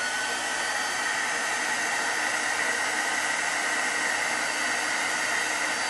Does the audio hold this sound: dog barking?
no